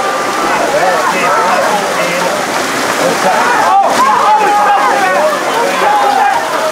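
Steady rain pours over an outdoor football field during a match, a dense, continuous hiss that fills the scene while voices talk over it.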